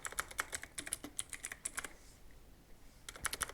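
Fingers typing on a computer keyboard, a quick run of crisp, close key clicks, then a pause of about a second before another short burst of keystrokes, with no voices.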